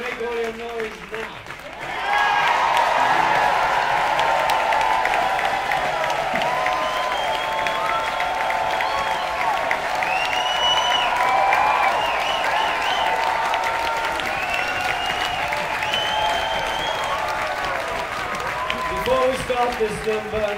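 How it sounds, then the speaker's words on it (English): A large concert crowd at a show in New York bursts into sustained applause and cheering with whoops and whistles, loud and continuous after a brief quieter start. "the crowd make all that noise"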